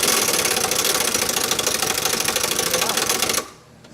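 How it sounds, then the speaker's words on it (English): Air impact wrench hammering on a 17 mm nut in a Honda Element rear suspension: a loud, continuous rapid rattle that cuts off abruptly near the end. "My air tools aren't the best in the world."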